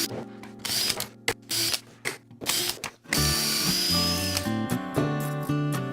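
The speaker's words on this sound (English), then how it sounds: "I'll just drill right there." A power drill bores pocket screw holes through a clamp-on jig while a mattress box is built for a Murphy bed, with short whirring bursts, then one longer sustained whine that rises in pitch, all close and loud.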